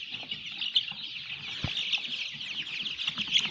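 A flock of about 700 chickens on a poultry farm, given Ranikhet vaccine at 21 days old, keeps up a dense, steady chorus of chirps and soft clucks, with one sharp knock partway through.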